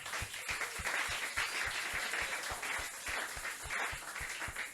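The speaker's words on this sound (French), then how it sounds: "Acclame pour toi-même." Church congregation applauding during a Sunday service, steady rhythmic clapping in an even beat with a continuous wash of hand claps and crowd noise, moderately loud, no clear speech.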